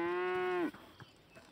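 A single cow lets out a loud, close, steady low moo lasting over half a second, then falls silent apart from faint background rustle, in African hill country pastureland.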